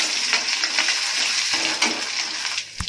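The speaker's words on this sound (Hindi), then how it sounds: "तो आप देख सकते हैं मैंने इसमें एक चम्मच अदरक लहसुन का पेस्ट डाल दिया है।" Ginger garlic paste sizzling in hot oil while a prawn masala is cooked, a steady close crackling fry with brief clinks and stirring scrapes, no talk.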